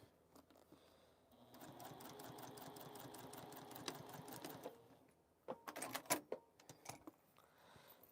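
A sewing machine stitches a sewing caddy in a sustained, quiet run of rapid mechanical whirring, followed by a few sharper clicks and short bursts as it stops.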